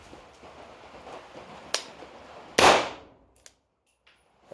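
A single sharp report comes from an unsuppressed 300 Blackout PDW rifle with a 4.75-inch barrel. It is loud and close after a smaller click, with a brief decay followed by light metallic clicks.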